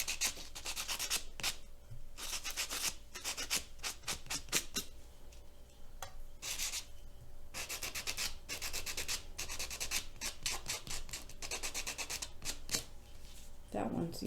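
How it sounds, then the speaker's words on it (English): Fingernails being filed to remove glue for nail art, a close, steady run of short rasping strokes in quick bursts with brief pauses, some talk faintly underneath. "a little bit of filing just to get that glue off of there"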